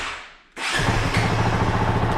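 A Honda CRF450RL dirt bike fires up after a quiet moment, a sudden loud catch of the engine settling straight into a fast, throbbing idle heard close by.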